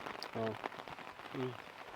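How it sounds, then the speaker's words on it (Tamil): Light rain falls outdoors, a faint, steady patter heard alongside brief, soft vocal fragments. "மழை வேற பெஞ்சிட்டு இருக்கு பாருங்க."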